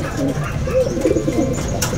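Quality racing pigeons coo nearby in soft, repeated throaty rolls that overlap in a busy loft, with faint rustling and background noise.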